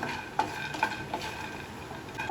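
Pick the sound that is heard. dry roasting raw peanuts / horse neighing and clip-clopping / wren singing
dry roasting raw peanuts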